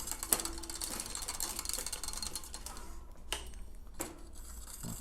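A bicycle derailleur shifts as its cable is pre-stretched, giving a run of close, crisp mechanical ratcheting clicks with a few sharper isolated clicks near the end, heard alone at moderate volume.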